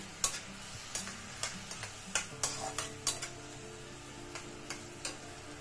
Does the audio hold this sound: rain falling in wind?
no